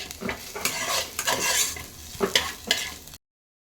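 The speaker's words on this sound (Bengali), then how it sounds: "এদিকে পেঁয়াজ ভাজা হয়ে গেছে" Onions sizzle and crackle in a hot pan, with bursts of stirring scrapes, before the sound cuts off abruptly.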